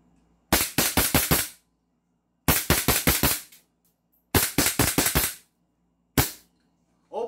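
A silver Desert Eagle airsoft pistol fires in three quick bursts of five or six sharp cracks each, then a lone shot and a last shot near the end, crisp and close with silence between bursts.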